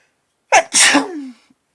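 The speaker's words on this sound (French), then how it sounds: "Je vais éternuer." A single close, loud human sneeze: a short sharp intake followed by a burst that trails off into a brief fading tail, with no talk over it.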